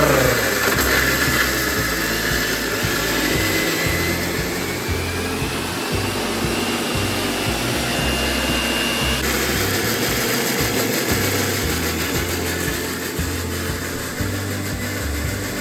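A home mixer grinder grinds a masala with mint, running as a loud, steady motor whine with an abrupt change in pitch and load midway. It continues alone without speech throughout.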